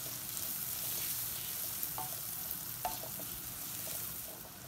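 Tomato seasoned with black pepper cooking in a pan, a soft steady sizzle with a couple of faint clinks of a utensil, quiet and without talk.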